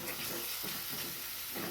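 Homemade black masala stirred into mixed vegetables frying in a pan: a steady sizzle and hiss with a few scraping stirs, close and continuous.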